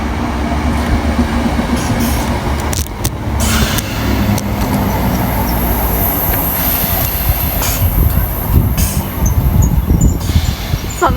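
A class 320 electric multiple unit rolls into Motherwell station, a steady loud rumble of wheels and traction under the whole stretch with brief squeals and clatter from the rails, no talking.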